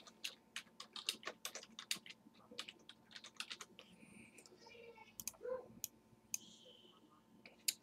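Rapid typing on a computer keyboard while entering livery text for a PMDG 737NGX aircraft repaint, quick irregular clicks and clacks close up and fairly quiet, with a short pause midway.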